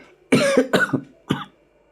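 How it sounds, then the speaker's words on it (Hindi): A person coughs three times in quick succession, harsh and close, with a short pause before the last cough. "थोड़ा मुझे खांसी आ गई थी।"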